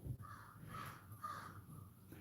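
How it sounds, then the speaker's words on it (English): Crows cawing at a distance, three or four hoarse drawn-out caws in a slow rhythm, faint against a low steady background rumble. "Hey, we got crows down here."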